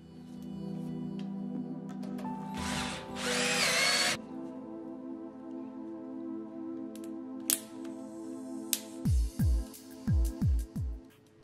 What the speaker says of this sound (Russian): Включаем режим шуруповерта.